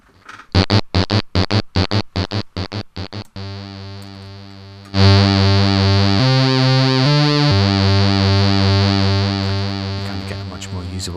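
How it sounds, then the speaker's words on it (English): A modular synthesizer tone starts as rapid rhythmic pulses, then holds a buzzy, harmonically rich sustained note whose timbre shifts as a sine wave sweeps the pulse width from high to low. "This is changing the pulse width from high to low across the amount of this sine wave"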